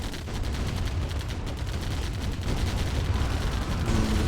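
Rapid gunfire and turret shots from a Command & Conquer Tiberian Dawn multiplayer battle, a dense continuous crackle of repeated shots with dull booms underneath.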